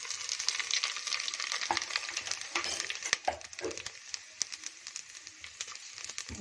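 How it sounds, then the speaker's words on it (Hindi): Spice masala frying in hot oil in a pot for Marwadi-style kadhi pakora, a steady close crackling sizzle with scattered sharp pops and stirring scrapes throughout. "ये मैंने पतीला चढ़ा दिया, उसमें मैंने ऑयल डाल दिया और ऑयल गर्म होने पे मैं जो मसाला निकाल के रखा था ये सब ये डाल दूंगी।"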